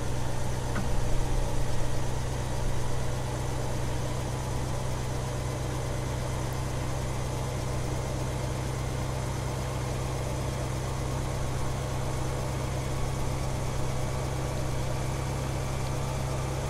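A tractor engine running in Farming Simulator 2015, a steady low drone with a strong hum and a constant mechanical whine, even and unbroken, with no voices.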